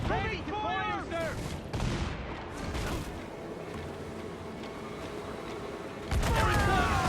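Naval battle in Assassin's Creed 4: Black Flag, with heavy cannon fire booming in a rolling volley amid battle noise. Voices shout over the action and the volley swells loud near the end.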